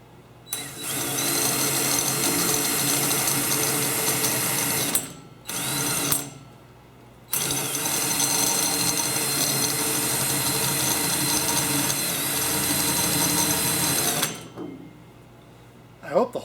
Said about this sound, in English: I hope the hole saw is sharper than the pilot drill